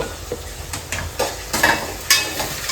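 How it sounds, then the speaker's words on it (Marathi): Browned onion and tomato are sautéed in oil for a chicken gravy, with repeated spatula scrapes against the pan over a steady sizzle, the strokes close and fairly loud. "सर्व व्यवस्थित परतवून घेते."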